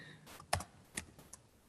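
Keys tapped on a computer keyboard while LaTeX frame and table code is entered in a workshop setting, a few separate clicks spaced across a short quiet stretch, close and fairly faint.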